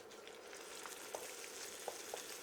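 Quiet, continuous sizzling of chicken gizzard and heart burgers frying in a pan, with a few soft pops and crackles standing out from the hiss.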